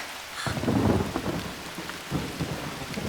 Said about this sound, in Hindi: इस मजेदार बारिश का आनंद लो।